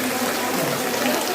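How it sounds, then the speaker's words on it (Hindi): Water gushes steadily from a cow-mouth stone spout at Tulja Bhawani temple in Tuljapur, a loud, close, continuous splashing rush with no pauses. "गौमुख से निकलता हुआ पानी।"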